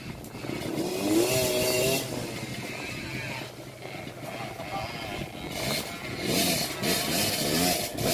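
Motorcycle engines rumble and rev in a noisy outdoor setting on a jungle trail, with fluctuating engine drone and some passing revs throughout.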